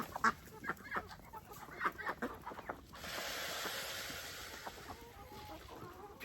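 Backyard homestead chickens clucking during chores, scattered short clucks and calls in the first half, then a steady rushing noise takes over with fainter clucks beneath.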